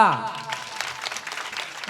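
At the third anniversary celebration of a Varkari education institution, a voice speaks briefly before the crowd breaks into scattered, moderately loud clapping that continues unevenly to the end.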